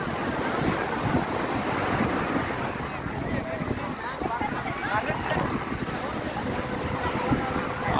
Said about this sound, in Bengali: অনেক গর্জিয়াস ঢেউ এখানে।